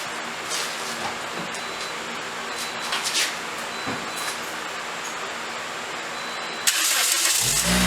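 A 2009 Toyota Corolla engine starts after a transmission fluid and oil change, then settles into a steady close idle, a dense, even hum that swells in level near the end.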